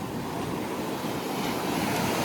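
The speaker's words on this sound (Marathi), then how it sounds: "समुद्र खवळलाय आता." Rough sea waves at Malvan beach, a broad continuous roar of surf mixed with wind buffeting the microphone, steady and fairly loud throughout, with no speech.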